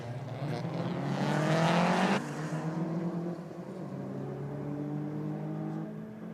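Drag race cars, including a small Honda Civic, launch and accelerate hard, engines revving up in a rising roar that peaks then drops at a gear change before a steadier drone continues, fairly loud and without talking.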